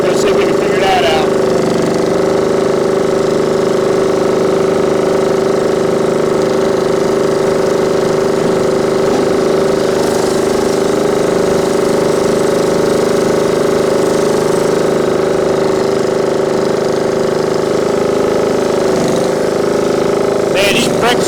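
Briggs & Stratton engine running on a Craftsman YT 3000 riding lawn mower with no deck: a steady, close, droning mid-pitched hum that holds level for about twenty seconds, with a brief clatter near the start and the end.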